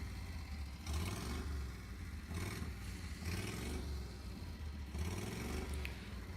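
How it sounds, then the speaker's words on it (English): A Harley motorcycle engine, running slightly lean, is revved repeatedly: a loud, close, low rumble that swells in several surges over a steady idle, with no talking. "Let's see what happens when I rev the engine."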